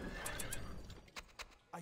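Horses whinny and neigh in the Battle for Middle-earth strategy game, a loud burst at the start followed by several short snorts and hoof-like clip-clop sounds, with game voices briefly underneath.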